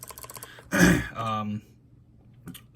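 Rapid typing on a keyboard fitted with Zeal Clickiez switches in a modified top-mount build, with clicky keystrokes at the start before someone talks over the rest.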